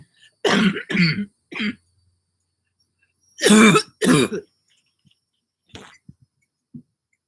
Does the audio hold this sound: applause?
no